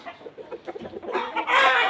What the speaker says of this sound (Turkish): Burada tavuk olsun, horoz olsun.